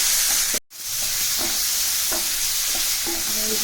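Ginger garlic paste sizzles in a hot pan with soya chunks, under a steady bright hiss. Spoon scrapes and stirring clicks recur throughout, and a momentary dropout interrupts the sizzle early on.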